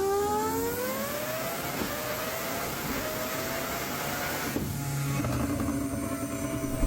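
An MF5 Superlight race car with a 1,100 wheel horsepower 5-rotor rotary engine screams past, its high-pitched note rising then falling as it goes by, loud and steady with no talk.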